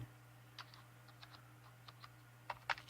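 A computer keyboard is typed on in a basement, with quiet, sparse key clicks through most of the moment, then a quick burst of louder keystrokes near the end over a steady low hum.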